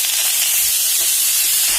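Shredded cabbage and peas hiss and sizzle loudly in hot oil in a kadai, a steady, close, unbroken frying roar with no voices.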